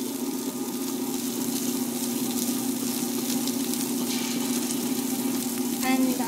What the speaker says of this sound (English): So I'm grinding the urad dal now.